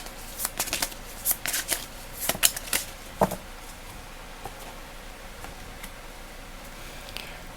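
Tarot cards shuffled by hand in a quiet room, a burst of crisp riffling snaps and flutters over the first few seconds, then trailing off into sparse faint card ticks.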